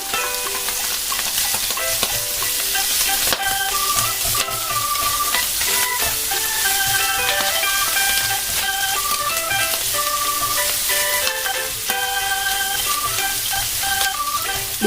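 Garlic hits hot oil in a pan for a Filipino pork, tongue and chicken liver igado, setting off a loud, steady, crackling sizzle with constant spattering that holds throughout, close and without talk.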